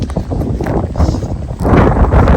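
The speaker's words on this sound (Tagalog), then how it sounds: "It's really cold and it's really windy." Strong wind buffets the microphone at a cold mountain peak campsite near San Carlos City, a loud continuous rush with low gusty rumble that swells louder in the second half.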